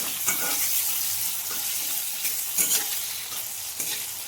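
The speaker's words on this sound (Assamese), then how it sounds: "এতিয়া আৰু অলপ ভাজি আছোঁ।" Potatoes and vegetables sizzling in hot oil in a home kitchen, a bright steady crackle broken by a few scraping stirs of the pan, close and fairly loud.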